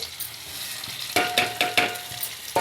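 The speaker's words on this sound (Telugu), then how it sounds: "పోపుని కూడా బాగా వేపుకుందాం." Onion pieces and popu spices sizzle in hot oil in a pan while a spoon scrapes and stirs in several sharp, regular strokes, close and fairly loud, with no voices.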